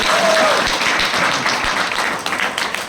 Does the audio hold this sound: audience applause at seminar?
yes